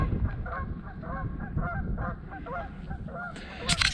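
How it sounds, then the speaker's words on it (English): Several geese honk repeatedly overhead at a swamp in a rough, overlapping chorus, moderately distant, against a low background rumble. "Some geese up there hollering at me."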